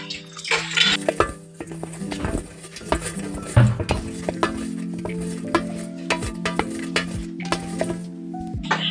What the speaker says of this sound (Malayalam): ഇനി നന്നായിട്ടൊന്ന് മിക്സ് ചെയ്യാം.